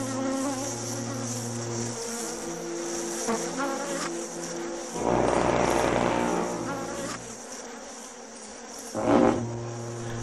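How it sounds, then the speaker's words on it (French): A swarm of thousands of bees in Nepal makes a dense, continuous buzzing that swells louder as insects pass close, with a few brief bursts of other noise and no speech. "Des milliers d'abeilles attaquent toute forme de vie qui se trouve à proximité."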